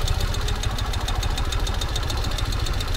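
A 2021 Ural cT motorcycle engine idles in third gear, a steady, loud, close mechanical chug with an even pulsing rhythm throughout, with no voices.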